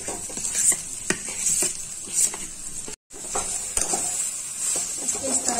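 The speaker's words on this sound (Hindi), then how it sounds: "अब मैं इसमें आलू डाल रही हूँ मैश किया हुआ।" Mashed potatoes are stirred into fried onions in a pan, with a steady sizzle, scraping spoon strokes and occasional clinks against the metal, close and continuous.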